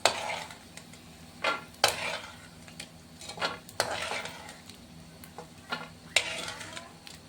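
Peanuts being stirred in a frying pan with oil, scraping and rattling in repeated spoon strokes over a low sizzle, close and irregular.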